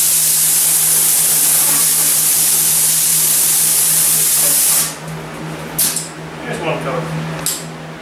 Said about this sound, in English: all the overspray is leaving the exact way we wanted it to, which is over there onto all those boards we just finished